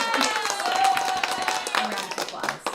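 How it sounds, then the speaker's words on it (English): Applause during a live online writing showcase winner announcement, a short burst of clapping mixed in with a speaking voice. "A round of applause. Super round of applause."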